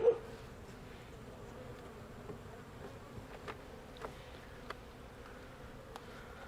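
Honey bees buzz faintly and continuously around an opened hive during an inspection, with a few soft clicks and light knocks scattered over the hum.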